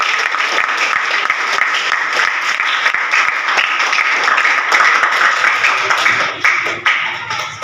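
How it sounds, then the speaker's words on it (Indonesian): Students clap together in a classroom after a lesson on the solar eclipse, giving steady, dense applause that fills the room at full strength and tapers slightly near the end. "kasih tepuk tangan"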